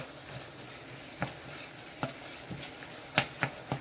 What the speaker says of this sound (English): I'm going to wait for that to saute and cook